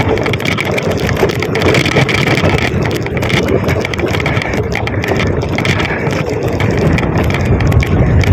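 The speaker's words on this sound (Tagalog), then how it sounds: "Malakas ang hangin ngayon." Strong wind on a bridge in Alaminos, Pangasinan roars steadily against the microphone, a dense, unbroken rumble with no pauses throughout.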